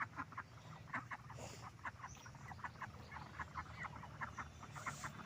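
A small flock of ducks kept at a home being cleared of jungle quack and murmur in short repeated calls, faint and somewhat distant over steady outdoor background noise, with no talk.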